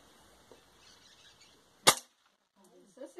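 A single sharp, loud crack of a 5.5 mm air rifle firing an explosive slug pellet bursts out of near silence, followed by brief voices talking afterward.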